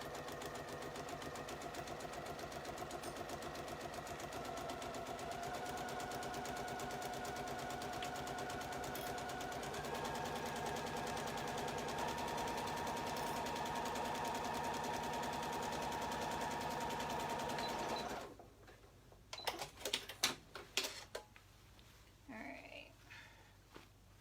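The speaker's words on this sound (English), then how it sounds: "And now we're going to sew that in place." A sewing machine stitches a seam on an Allegro sewing project, running steadily and close for about eighteen seconds before stopping, followed by a few scattered clicks and faint handling sounds.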